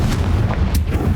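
Confringo fire blast spell from Hogwarts Legacy, a short heavy booming burst with rumbling low end lasting about a second, loud and close.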